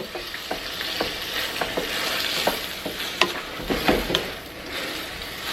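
Canned diced tomatoes stirred into a sizzling shakshuka pan, loud close sizzling broken by repeated spoon scrapes and wet clacks against the pan at an irregular rhythm.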